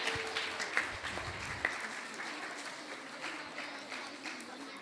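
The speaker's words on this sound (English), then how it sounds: "Let's give another round of applause for the kids." Audience applause for Sunday School students after their presentations, a steady, moderately distant clapping that holds for several seconds, with a few faint voices beneath it.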